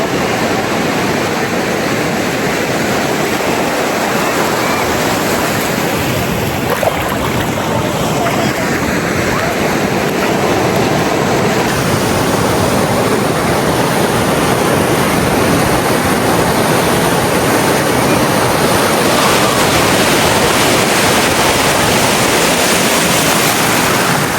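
Loud, continuous surf washing onto the shore, with wind buffeting the microphone throughout.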